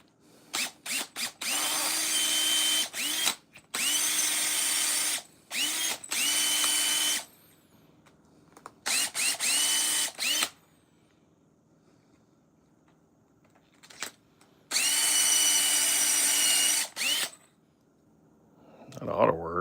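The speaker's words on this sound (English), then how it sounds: "We're going to trim off this and that with this barrel tool." A handheld rotary barrel trimmer whirs in several bursts of a few seconds each, a steady high-pitched electric drill-like whine starting and stopping with quiet gaps between, close and loud.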